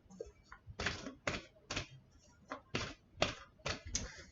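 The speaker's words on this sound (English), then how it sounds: "I'm talking away and I'm shuffling, getting all sorts of crazy cards." Tarot cards are shuffled in a series of crisp, riffling bursts, about eight quick flutters spaced roughly half a second apart, close and clear.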